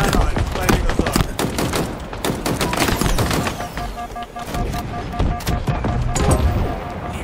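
Rapid automatic gunfire from a machine gun in a Halo multiplayer zone-capture match, dense bursts of loud shots with explosions and game announcer voices mixed in throughout.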